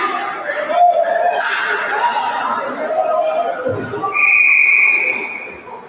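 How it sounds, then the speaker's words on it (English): A referee's whistle shrieks at a 14U youth hockey championship game, one sustained blast late in the moment, rising over crowd chatter, laughter and other arena noise. "Whistle there."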